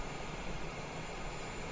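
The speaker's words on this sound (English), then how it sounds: "You can hear the engines throttling back now as we're in the descent." Jet engines of a Cessna Citation Longitude business jet throttle back during descent, a steady broadband roar heard from inside the cabin, even and unbroken with no talk.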